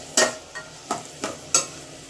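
Vermicelli dry-roasting in a pan until it turns pinkish, with a few sharp scraping stirs, about four short strokes spaced irregularly, close and fairly clear against a quiet background.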